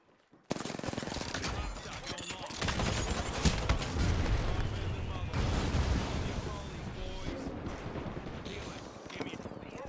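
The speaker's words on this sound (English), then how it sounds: "The enemies are shooting at me." Enemy gunfire in a video game, sustained rapid automatic shooting and heavy bursts that blend into a continuous barrage, heard under a spoken voice.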